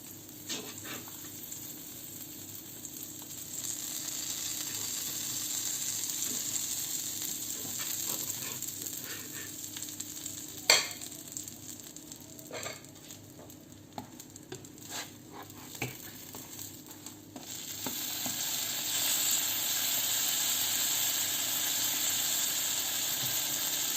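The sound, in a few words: butter sizzling in a pan for French toast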